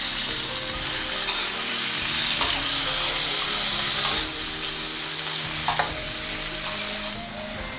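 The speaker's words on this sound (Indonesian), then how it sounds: "setelah diaduk rata, kemudian tambahkan sedikit air" Tofu and green beans are stirred in a hot pan, giving a steady close sizzle broken by utensil scrapes, and poured water hisses as it joins the frying.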